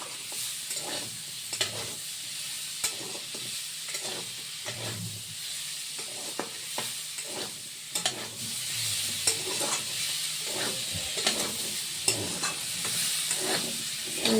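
Masala potatoes fry and are stirred in a pan, a steady broadband sizzle with repeated scraping stir strokes throughout, fairly close and continuous, with no talking.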